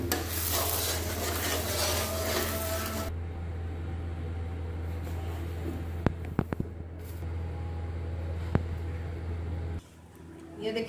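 Semolina halwa scraped and dished out of a pan, a steady scraping and stirring texture over a constant low hum, with a few sharp clicks of a spoon against metal near the end.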